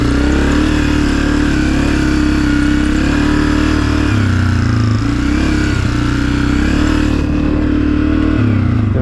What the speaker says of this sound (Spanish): Me han prestado esta Honda 250. Vamos a ir a darnos una vuelta.